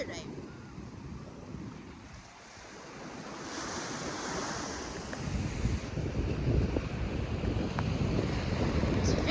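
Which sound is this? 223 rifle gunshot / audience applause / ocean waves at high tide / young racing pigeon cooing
ocean waves at high tide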